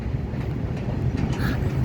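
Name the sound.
moving goods train passing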